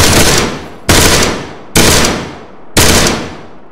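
Gunfire in the video game Arma 3 (Altis Life) booms in four loud, evenly spaced shots. Each blast is close and heavy, with a long fading tail.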